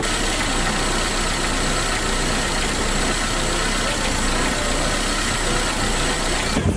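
A car engine with a faulty EGR system, one that won't pass a smog test, idles roughly in a loud, continuous, close-up drone for about seven seconds, with no talking.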